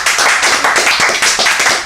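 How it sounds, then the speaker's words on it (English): A small group claps in a podcast studio, a short round of quick, loud, close hand claps with a steady uneven patter throughout. "Give yourselves a round of applause."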